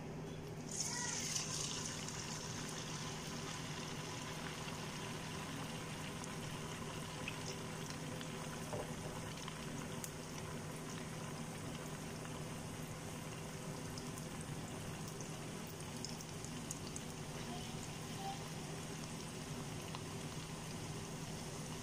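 Onion vada batter frying in a pan of hot oil gives a steady, even sizzling hiss that runs continuously at moderate level, close to the listener.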